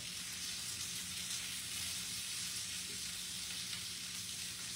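Smoked sausage fries in a pan, a steady, soft sizzle with fine crackling and occasional small pops throughout.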